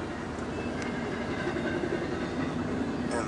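A typical westbound train rolls past on a sunset route, giving a steady, continuous rumble with faint wheel clatter at moderate distance and no talk.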